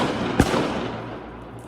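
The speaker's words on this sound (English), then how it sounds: "The first gunshot feels intense" A single sharp gunshot cracks out at a distance in a forest with a brief echo, over steady background noise.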